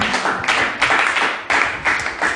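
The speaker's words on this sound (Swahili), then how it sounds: "Pigia Yesu makofi mazuri" Congregation clapping for Jesus in a church service, rhythmic, fairly loud claps and taps falling in repeated pulses, with a few thumps among the crowd.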